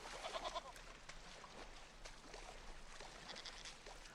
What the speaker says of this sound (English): Oh, it's not a sheep, it's a goat.